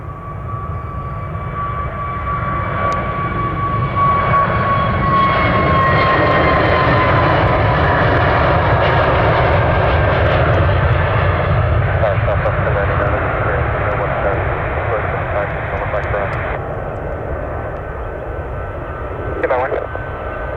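A Delta airliner lands at Orlando International on runway 35 right, a loud, steady jet engine roar with a falling whine lasting throughout, as air-traffic radio voices talk over it.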